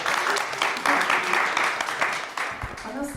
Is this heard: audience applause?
yes